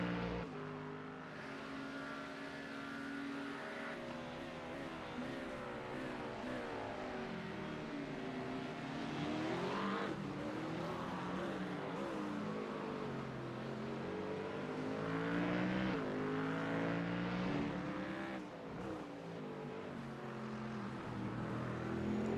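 A Ford Mustang race car roars around Circuit of the Americas during an AARS race. The engine drones loudly and steadily, its pitch climbing and falling through gear changes, with no voices.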